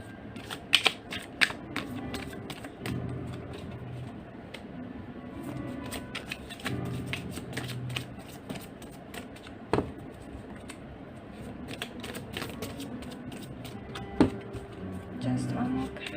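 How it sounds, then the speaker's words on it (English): A deck of tarot cards is shuffled by hand, giving soft riffling and flicking with scattered sharp taps, close and moderately quiet, with some faint talk. "Let me shuffle just one more."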